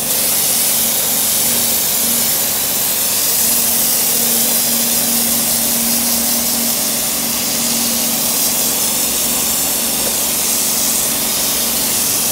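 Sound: spraying protective coating

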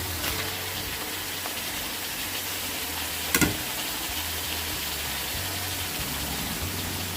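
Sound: pork stir-frying in coconut milk and green curry paste

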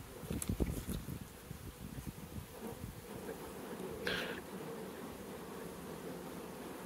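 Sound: honey bee swarm buzzing

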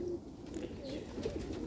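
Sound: pet pigeons cooing

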